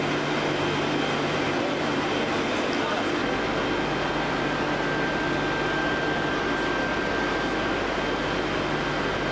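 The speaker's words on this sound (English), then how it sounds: "These are the pit furnaces," Heat treatment pit furnaces run inside a factory, a loud, steady, broadband industrial roar with a low hum and a faint sustained tone, unbroken throughout.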